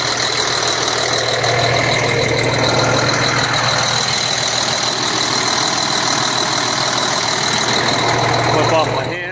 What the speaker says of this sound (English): To listen to this noisy ass engine.